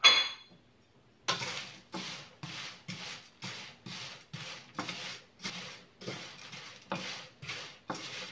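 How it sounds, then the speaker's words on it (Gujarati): Maggi noodles dry-roasted without oil in a pan over slow to medium gas, a close, regular series of scraping, rustling strokes about twice a second as a spoon stirs the dry noodles, no talk. "એને આપણે તેલ વગર જ રોસ્ટ કરવાની છે."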